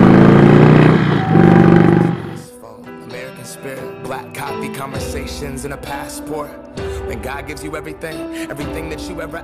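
An Indian Chief Vintage motorcycle engine runs steadily at moderate revs, with a loud, even mechanical rumble that carries on after a louder opening moment.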